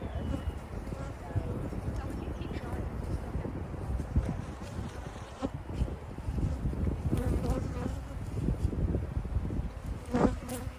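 A large honey bee colony at an apiary hive inspection gives off a dense, continuous buzz, close and loud throughout, with wind and faint voices mixed in.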